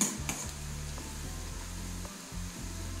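Bitter gourd frying in hot oil in a pan: a quiet, even sizzle held throughout with a low steady hum underneath and a few faint clinks, no talking.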